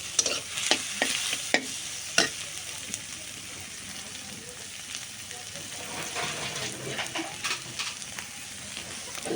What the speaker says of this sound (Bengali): এখন ডিমটা সহ আর একটু ভাজি করে নিলাম